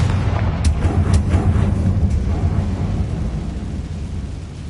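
A Confringo blasting spell goes off in Hogwarts Legacy, a heavy rumbling explosion with a few sharp cracks near the start that fades slowly over a dense low roar, with no voices.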